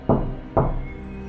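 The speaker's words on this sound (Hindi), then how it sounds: "कुछ देर बाद मंगल की पत्नी को दरवाजे पर खटखटाहट की आवाज सुनाई दी।" Two firm knocks land on a door about half a second apart, each a dull, close thud that rings briefly and then decays into quiet.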